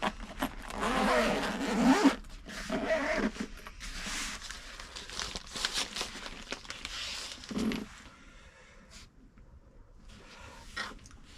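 Zipper on the fabric carry case of a Cadac 2 Cook Turbo FFD Deluxe QR camping cooker, drawn in long scraping runs for several seconds, close and fairly loud, then easing into quieter handling rustle.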